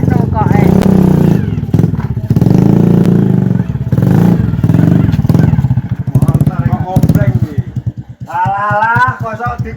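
An RBT motorcycle engine revs and idles up close, its loud rough throb rising and falling in bursts, with people talking over it throughout.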